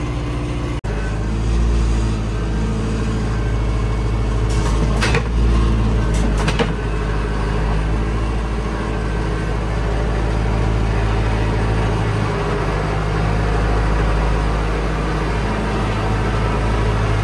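A tractor engine runs steadily from start to finish, a loud low rumble from inside the cab with a couple of brief higher clatters partway through.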